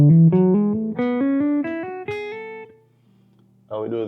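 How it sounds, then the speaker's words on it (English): Quick ascending run of plucked guitar notes up a major scale, each string struck once then hammered up, in a steady stepping rhythm; a short pause, then another note begins. "We pluck each string once and then hammer on."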